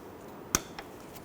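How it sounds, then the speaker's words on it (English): Cutters snip off an excess metal tab during a front wheel bearing job on a 2006-2014 Honda Ridgeline, one sharp close click standing alone over a low steady background. "Then use your cutters to cut off the excess."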